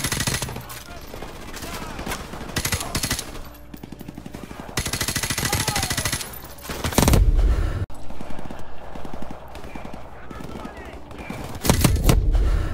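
Call of Duty Modern Warfare Remastered on Veteran difficulty delivers repeated bursts of loud automatic and single-shot gunfire, with heavy blasts near the middle and end, while a player talks over the action.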